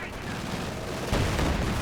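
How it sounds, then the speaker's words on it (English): Grenades bursting in a Company of Heroes 2 battle, a dense rumble of explosions and gunfire with a heavier blast about two-thirds through, all under steady commentary. "Grenades going off"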